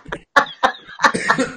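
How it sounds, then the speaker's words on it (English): A person coughs up close in a series of four sharp, loud coughs spaced a fraction of a second apart, harsh and throaty. "There's that cough."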